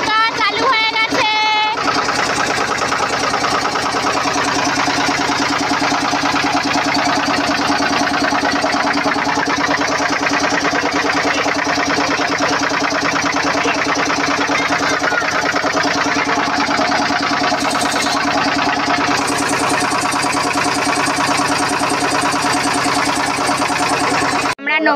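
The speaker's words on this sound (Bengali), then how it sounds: "আমাদের ফটফটি নৌকা চালু হয়ে গেছে।" A small motorized country boat, a phat-phati engine boat at a launch ghat in Mukutmanipur, chugs steadily with a loud, continuous mid-pitched engine drone that runs unbroken from start to end, close by, with a faint voice underneath.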